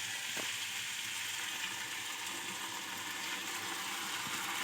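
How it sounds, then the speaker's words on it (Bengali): Boiled taki fish sizzles and fries in a pan with chopped green chili, garlic and onion, a steady close crackle running throughout with no talk. "কাঁচামরিচ, রসুন, পেঁয়াজ কুচি দিয়ে ভেজে নিচ্ছি"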